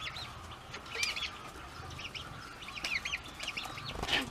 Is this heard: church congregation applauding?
no